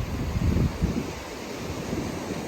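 Ocean waves wash in on Garden City Beach near Myrtle on a November day, with surf rushing close by and wind buffeting the microphone in a steady, rough roar.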